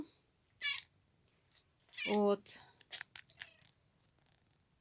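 A caged cat in what seems a veterinary ward gives a couple of short meows, fairly faint, with a person speaking quietly around them.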